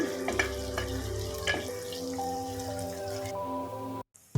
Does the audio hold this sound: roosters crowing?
no